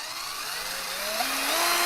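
A LYUWO 12V cordless screwdriver's motor whines continuously up close, its pitch rising smoothly as the trigger is squeezed harder to increase the speed.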